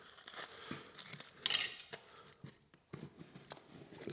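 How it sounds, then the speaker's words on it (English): Material is cut to size with scissors or a blade, giving several quiet close snips and crinkles at an irregular rhythm, with one brighter sharp rasp near the middle of the clip and no talk. "Cut it to size."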